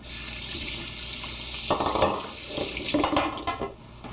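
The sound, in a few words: washing hands under running tap water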